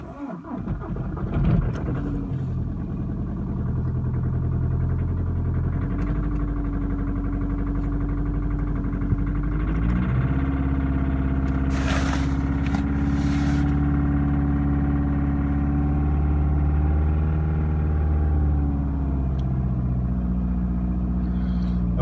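A BMW N47 diesel engine with a defective glow plug cold-starts at -15°C: a rough cranking catch, then a steady, droning idle with a low rumble that runs close and loud, briefly unsteady early on.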